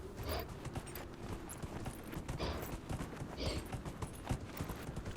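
Hooves of a horse mount clip-clop in the video game Dragon Age: Inquisition, a quick irregular stream of close hoof strikes over a busy game soundscape, with no voices.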